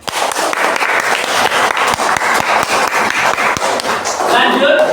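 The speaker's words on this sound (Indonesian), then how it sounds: "Tepuk tangan buat Sultan." A classroom of students claps for a classmate during an Islamic religious education lesson, a lively burst of uneven hand claps and taps lasting several seconds, with children's voices mixed in underneath.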